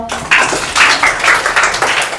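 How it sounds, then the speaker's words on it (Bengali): Schoolchildren in a fifth-grade maths class clap together for a classmate, a burst of dense, fairly loud hand-clapping lasting a couple of seconds with uneven swells. "সামিয়ার জন্য একটা হাততালি দাও।"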